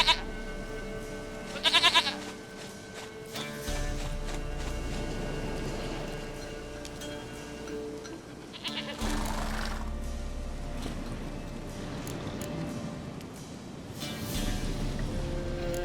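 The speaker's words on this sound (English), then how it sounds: "Goat of mine, dearest, sweetest goat." A goat bleats in The Witcher 3, with a couple of short, loud calls standing out over a steady game soundscape of ambient music and environmental noise.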